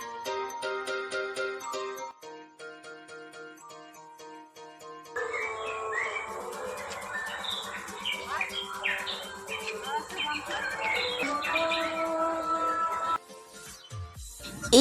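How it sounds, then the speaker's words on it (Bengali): Artificial bird calls from a birds' nest display at a crowded Durga Puja pandal in Asansol, with dense, overlapping chirps and tweets that thicken in the middle of the clip over a steady musical background. "দূর থেকে শুনতে একদম মনে হচ্ছিল রিয়েল পাখির আওয়াজ"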